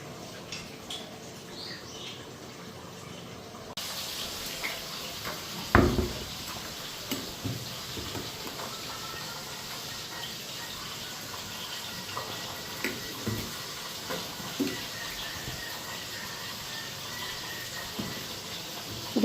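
Tap water runs while dishes are washed, a steady close splashing flow with scattered clinks and knocks of utensils, and one louder clatter early on.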